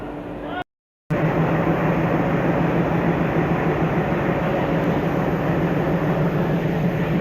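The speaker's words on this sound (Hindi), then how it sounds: "ठीक 7:25 पे लखनऊ छपरा डीजल लोकोमोटिव के साथ लखनऊ जंक्शन पे लगने जा रही है।" A Lucknow–Chhapra Express hauled by an Izzatnagar diesel locomotive arrives at Lucknow Junction, with a steady loud rumble and engine drone that cuts out briefly near the start, then holds continuous.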